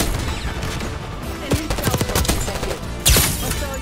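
Gunfire in Call of Duty Black Ops 6 played on PC: a rapid, loud burst of shots rattles close by over a busy game-sound background, ending in one sharp, heavy blast.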